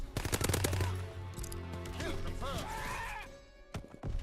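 Rapid automatic fire from the Proto-X1 submachine gun in Call of Duty: WWII, a loud fast burst of shots at the start trailing into echoing game effects and a few final isolated cracks.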